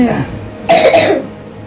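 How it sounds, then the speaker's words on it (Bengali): A single short burst of coughing, close and fairly loud, following a brief moment of quiet voice. "কাশি হচ্ছে"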